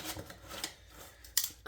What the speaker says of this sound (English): let me cut this open,